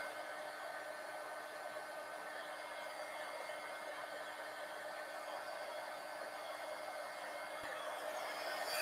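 A hair dryer blows steadily to dry ink on collage paper, a loud continuous whooshing hum with no breaks that swells slightly at the very end.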